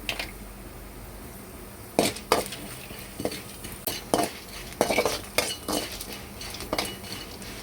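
Cashews and chana dal fry in a little oil for pepper rice while a spoon clinks and scrapes against the pan in irregular bursts over a soft background sizzle.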